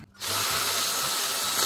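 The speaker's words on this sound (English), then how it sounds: "And ream that out a little bit." A power drill with a larger bit reams out a 3/8-inch pilot hole, opening with a short pause before a loud, steady whine of drilling held close and alone to the end.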